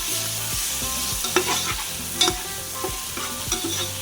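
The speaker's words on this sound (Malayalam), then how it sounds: "അപ്പോൾ അതും കൂടി വഴറ്റിയെടുക്കണം" Onions with salt sautéed in a pan for a Chennai-style biryani: loud, close sizzling with repeated rhythmic spatula scrapes and sharp clinks against the pan, no one talking.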